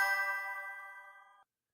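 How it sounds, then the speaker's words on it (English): A single bright notification ding from a live chat rings out clearly, then fades smoothly and cuts off into silence. "I keep on getting some type of notification in my ear"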